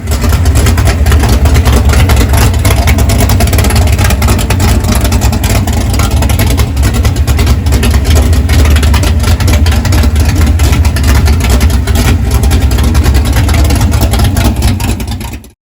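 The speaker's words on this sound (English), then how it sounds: "So the car sounds incredibly nasty." A 1964 Ford Galaxie V8 runs roughly and loudly, a dense, steady low rumble sustained for about fifteen seconds before cutting off abruptly at the end.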